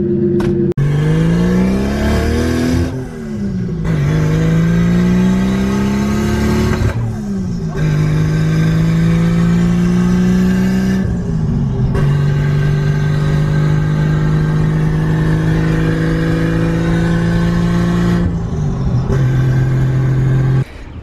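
A Nissan Skyline's engine revs up and down repeatedly while driving, checking a misfire, its pitch rising and falling with each throttle blip, loud and close, running steadily throughout.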